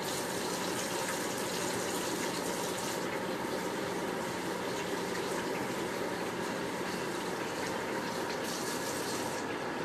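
Steady running water pours from a tap as hands are rinsed, a continuous, fairly loud gushing that holds evenly for about ten seconds with no talk over it.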